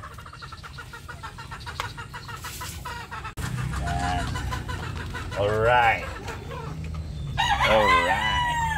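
A broodcock rooster crows twice, loud and close, amid clucking and farmyard chatter; someone speaks briefly between the calls.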